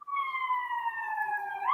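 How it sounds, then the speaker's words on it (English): An ambulance siren sounds as a single clear, sustained tone that slowly falls in pitch as the vehicle passes nearby, heard alone with no voices. "wait, you hear the ambulance?"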